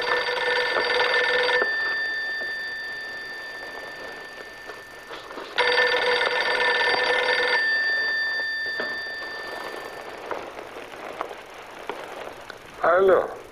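A telephone rings in two long bursts of bright electronic trilling, each about two seconds, separated by a pause, followed by a brief quieter sound near the end.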